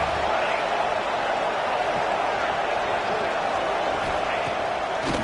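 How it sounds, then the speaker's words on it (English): A football stadium crowd roars continuously for the defense before a red zone stop, a dense sustained wall of cheering beneath a commentator's voice. "This crowd is trying to inspire this defense to make a big red zone stop."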